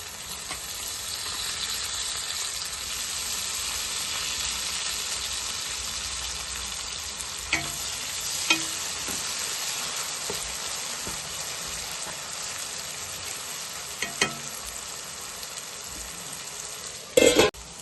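Onions and tomatoes fry and sizzle in a pan for a brinjal and chana dal masala curry, a steady soft hiss with occasional louder scrapes and clanks of stirring and a sharp clatter near the end.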